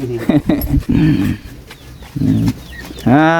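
Chickens cluck around a Thai village home, short bursts of fowl calls rising near and fairly loud, with a rooster-like call at the end, while people talk nearby.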